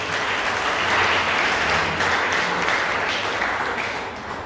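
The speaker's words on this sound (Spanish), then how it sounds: "Un aplauso al Señor" A church congregation gives a steady round of applause during a Spanish-language evangelical service. The clapping is dense and continuous, fairly close, and fades slightly toward the end, with no talking over it.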